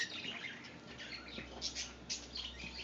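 Pet cockatiels give short, faint high chirps and tweets scattered through a quiet indoor room, with no talking during the calls.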